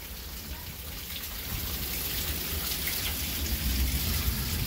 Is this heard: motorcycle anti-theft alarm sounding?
no